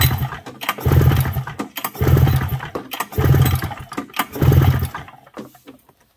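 Polaris XC 440 two-stroke snowmobile engine being turned over for a compression test with oil in the plug holes, four loud cranking bursts of rapid chugging separated by brief pauses, close, no speech.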